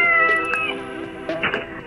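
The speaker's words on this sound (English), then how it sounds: "my cat wants to say hi to Malachi." Close and clear, a cat meows in drawn-out, wavering cries, with a few shorter calls near the end and no voices.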